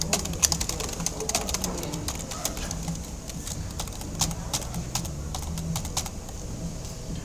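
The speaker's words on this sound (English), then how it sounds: "So now I will type in the address information" Rapid, steady typing on a computer keyboard while entering address details on a trading platform's sign-up form, with close clicking keystrokes running throughout alongside faint background cooing from a pigeon or dove.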